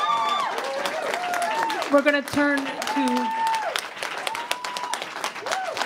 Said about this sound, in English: I think they've forgotten about holding their applause.